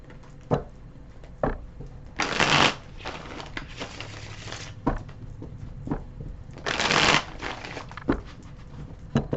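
Two quick riffling bursts of tarot cards being shuffled, separated by soft taps and light handling of the deck, close and fairly quiet.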